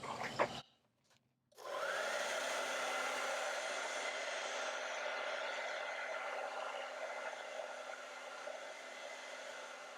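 A hair dryer blows steadily on a freshly painted acrylic sunflower canvas, starting after a brief pause and running as a loud, continuous whoosh close to the surface for the rest of the span.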